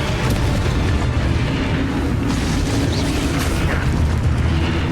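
A Confringo spell explosion in the video game Hogwarts Legacy on Nintendo Switch makes a loud, dense, continuous rumbling blast with crackling debris that fills the whole stretch without talk.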